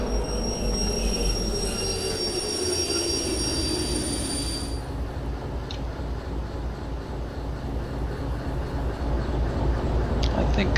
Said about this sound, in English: pull the locomotive out